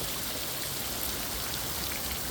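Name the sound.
water dripping from moss in a gorge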